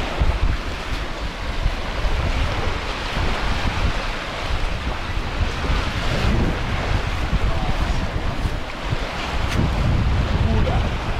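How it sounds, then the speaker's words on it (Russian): Baltic Sea waves wash against a narrow spit from both sides while wind blows steadily, a continuous broadband surf roar with no breaks and gentle swells in loudness. "Ветер идет, получается, оттуда, и с двух сторон омывается волной эта коса."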